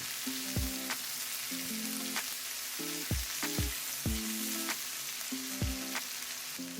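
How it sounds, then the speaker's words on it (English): Cherry tomatoes saute with garlic in a hot pan, giving a steady close sizzle with repeated low clunks and scrapes as the pan is stirred or shaken, and no voices. "you want to go ahead and add your cherry tomatoes, and you just want to saute these for about 1 minute"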